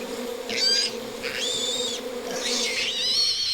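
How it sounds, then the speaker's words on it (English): A swarm of bees attacking a creature in the Spore video game: a steady close buzzing drone with recurring high whining bursts, continuous and fairly loud. "Or you can make him be attacked by a bunch of bees."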